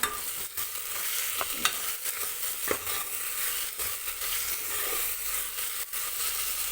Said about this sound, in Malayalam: അപ്പം നമ്മുടെ സവോളയും പച്ചമുളകും ഇഞ്ചി വെളുത്തുള്ളി പേസ്റ്റെല്ലാം ഇട്ട് കൊടുത്തത് നന്നായിട്ട് വരന്ന് വന്നിട്ടുണ്ട് ഇനി നമുക്കതിലേക്ക് കറിവേപ്പില ഇട്ട് കൊടുക്കാം